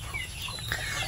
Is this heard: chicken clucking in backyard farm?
yes